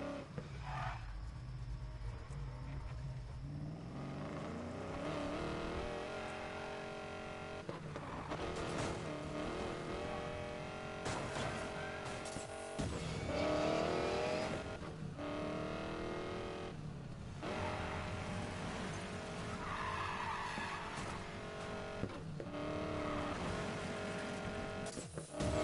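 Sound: 1965 Mustang V8 engine driving, Need for Speed Payback video game

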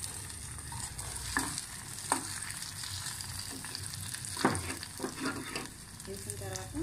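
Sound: onion and garlic frying in tempering with mustard seeds

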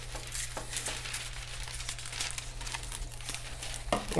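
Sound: cutting off excess material in crafting

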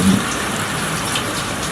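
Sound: rain falling

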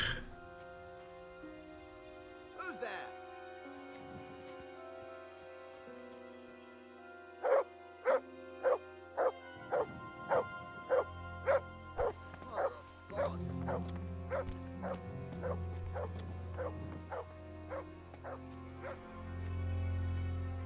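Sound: dog barking in video game Kingdom Come Deliverance

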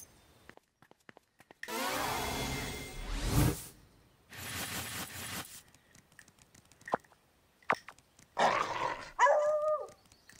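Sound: dog barking in a video game

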